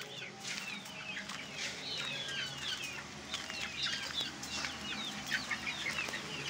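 Chukar partridge clucking after laying an egg, short repeated clucks and calls standing out over a busy farmyard with other fowl and bird noise, no talk.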